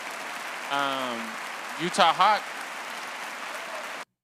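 A podcast's clap-button applause sound effect plays as a dense, steady burst of recorded clapping for about four seconds, then cuts off abruptly, with short bits of speech and a drawn-out vocal sound over it.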